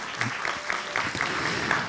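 Applause from an audience at a Ramadan evening talk in Eyüpsultan: a steady, dense wash of clapping hands fills the space for under two seconds, with faint voices mixed in.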